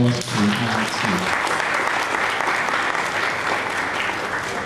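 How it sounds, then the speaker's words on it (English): Audience applause fills the room for the institute IIT at a formal event, steady and dense from start to finish, with a few voices mixed in early on. "So a round of applause to IIT."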